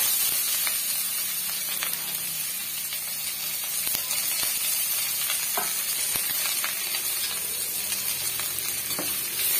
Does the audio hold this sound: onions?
yes